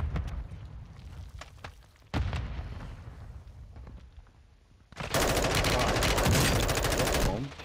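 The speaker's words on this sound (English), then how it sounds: "I'm getting shot from behind." In Warzone 2, close loud gunfire bursts arrive in sharp cracks, then a long sustained rapid automatic volley fills the final seconds, with players' voices mixed in.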